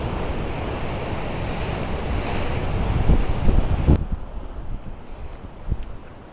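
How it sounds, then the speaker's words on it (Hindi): Sea waves wash in on a beach in Surat, Gujarat, a steady broadband roar of surf mixed with wind buffeting the microphone, loud at first and then thinning into a quieter wash with occasional splashes. "गर्मा गर्म मसालेदार भुट्टा और पीछे हमारे समुद्र का बीच"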